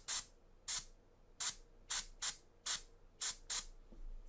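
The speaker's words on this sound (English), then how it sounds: "I'll do a hard spray to make sure my airbrush is clean" A Vex airbrush fires eight hard, hissing bursts of spray in an uneven rhythm, each about a quarter second long, close and crisp against a quiet background.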